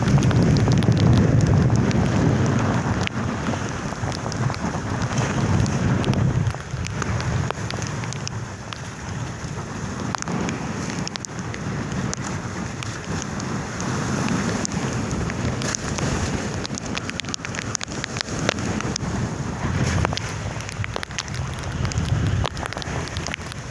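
Strong typhoon wind at sea buffets the microphone continuously, with rushing gusts and spray-like noise rising and falling throughout.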